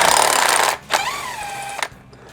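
A powered socket tool with a 1.25 inch socket spins the yoke nut off the output shaft of a Jeep. A harsh rattling burst is followed by a shorter whirring spin and a final brief hit, all close and loud.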